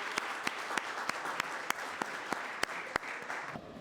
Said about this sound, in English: Let's give them all one big round of applause for taking time out to be here.